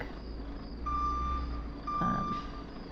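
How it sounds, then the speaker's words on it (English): Two loud, evenly spaced reversing beeps sound from a truck with air brakes over a low idling engine rumble. "That reversing is quite loud."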